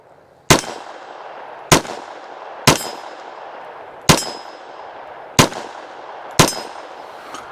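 A SIG P322 .22lr pistol fires six shots at steel targets, each a sharp crack with a bright metallic ring. The shots come at slightly uneven intervals of about a second, loud and close, with no talk over them.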